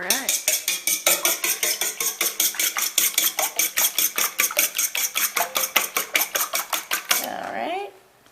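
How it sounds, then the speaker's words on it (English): Three eggs whisked in a bowl for Czech bread dumplings, a fast steady clatter of quick rhythmic strokes against the bowl for about seven seconds, then a brief scrape as the whisking stops. "crack 3 eggs in a bowl, and then we're going to whisk them up"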